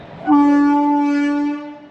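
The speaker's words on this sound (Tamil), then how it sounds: "ட்ரெயின் வந்து பார்த்தீங்கன்னா ரெடி ஆகிடுச்சு." Train horn sounding at a railway station platform in Rajasthan, India: a single loud, steady blast lasting over a second, then fading quickly.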